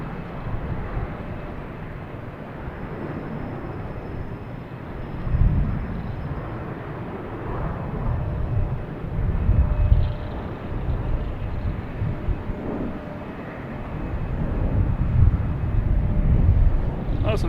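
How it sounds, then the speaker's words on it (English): An Alaska Airlines Boeing 737-900 takes off from Boston Logan, heard as a broad low rumbling roar that swells and fades in waves, distant and steady, with no talking. "We have Alaskan Airlines taking off to Seattle."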